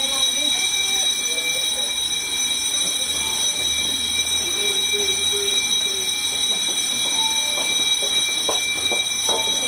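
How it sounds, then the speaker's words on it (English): Building fire alarm set off by a triggered smoke detector during a site tour, a steady high electronic tone with stacked harmonics ringing continuously throughout, with faint voices and background activity underneath. "it will actually turn red and will actually cause the whole alarm system to be turned on"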